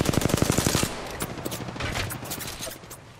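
Rapid automatic gunfire in an Apex Legends match, a loud close burst of evenly spaced shots in the first second, then scattered lighter shots and distant fire trailing off.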